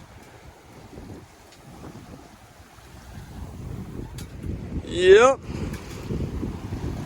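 Sailboat under full sail at night on open sea at about 6.5 knots, with low wind and water rush, sloshing waves against the hull, and a brief squeaky creak midway; a voice speaks briefly.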